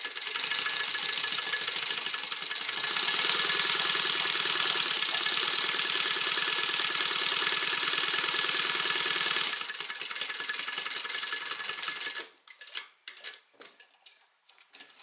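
A sewing machine runs continuously for about twelve seconds, stitching the open end of a tote bag closed, then stops and gives way to a few scattered handling clicks.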